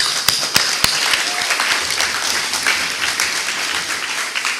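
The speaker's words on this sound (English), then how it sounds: "Give yourselves a round of applause." Applause from the audience at an eighth grade graduation ceremony in Pohnpei, steady and full throughout, with a few sharp individual claps standing out near the start.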